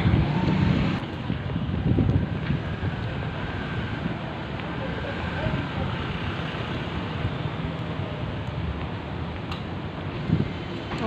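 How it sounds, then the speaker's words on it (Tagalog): Gusty wind from a small whirlwind roars steadily across the microphone, with low rumbling buffets that rise and fall throughout. "Parang dito lang naikot yung hangin."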